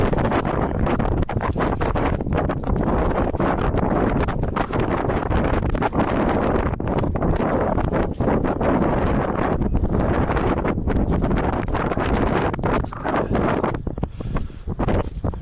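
Strong wind buffets the microphone on an outdoor hike, a loud continuous rumbling roar with gusty flutter throughout and no clear voices.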